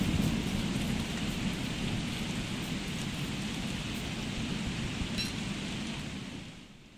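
Steady heavy rain with rumbling thunder during a lightning storm in the Don't Starve video game, a loud continuous wash of downpour that fades out near the end, with no talking.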